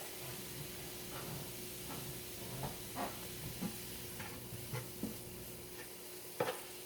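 Mushrooms softening on a flame thrower grill give a steady low sizzle and hiss, broken by soft scraping and stirring clicks, close and fairly quiet throughout.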